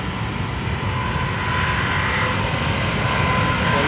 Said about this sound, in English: United Flight 71, 777-200 going to New York.